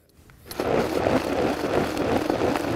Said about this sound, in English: we've got that all in the blender, and we're going to pulse this for about a minute